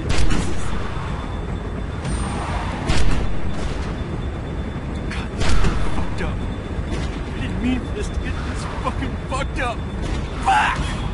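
Gunshots in the video game The Walking Dead: 400 Days, a few heavy booming shots standing out amid tense shouting voices and background game noise.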